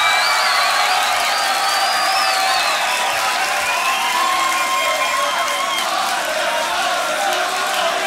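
Crowd at the Grand Beatbox Battle 2019 loopstation semi-final cheers and whoops for a finalist, a dense, loud, steady roar with an MC's amplified voice over it.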